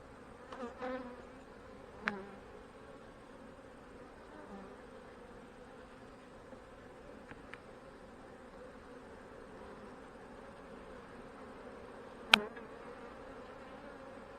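Honey bees hum faintly from an opened hive, a low continuous drone joined by a few sharp knocks and clicks of hive parts being handled, with no voices.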